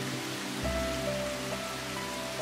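Heavy rain pouring down in a steady, dense hiss, with faint sustained tonal hums beneath that begin after a brief quieter opening.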